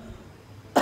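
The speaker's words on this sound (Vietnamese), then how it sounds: "Ho rồi, chắc bị Covid rồi." One short, fairly loud cough bursts out at the very end after a quiet stretch, close to the microphone.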